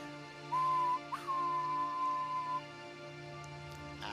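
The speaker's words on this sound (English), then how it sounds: "as the Tieshan Express gives a whistle and the conductor begins to wave with the lantern" A train whistle sounds on the Tieshan Express, a clear steady tone blown once briefly and then held for over a second, fairly loud against a quiet hum.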